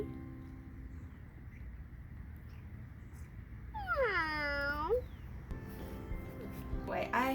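A cat meows once, a single drawn-out rising and falling cry close by, over a low steady background hum, with another faint brief sound near the end.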